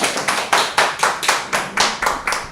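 A history lecture audience claps to welcome a lecturer; a small group beats out a slow, rhythmic unison clap, sharp evenly spaced bursts about twice per second, close and loud.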